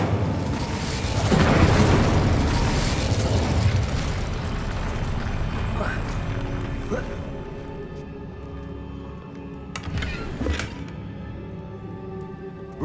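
Incendio fire spell in Hogwarts Legacy: a deep rumbling whoosh of flame builds and fades over several seconds over game ambience, then brief bright bursts and pops later on, with no voices.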